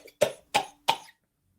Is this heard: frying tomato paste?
no